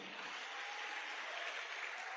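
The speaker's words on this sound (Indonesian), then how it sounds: "Tepuk tangan buat One Vision ya." Audience applause at a business presentation, a faint, even wash of many hands clapping, heard at a distance and at low level for a couple of seconds.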